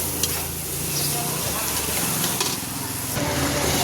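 Mutton and potatoes fry with a splash of water in an outdoor pan, giving a steady close hiss and sizzle with occasional stirring scrapes and faint voices in the background.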